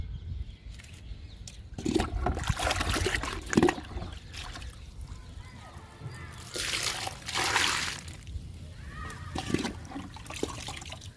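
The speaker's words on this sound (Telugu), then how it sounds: "కాకర పాదులకి ఇచ్చేద్దాము లిక్విడ్ని" Homemade liquid fertilizer poured onto bitter gourd plants in a garden, a steady trickling and splashing of water onto soil that rises and falls over several pours, fairly close, with no talking.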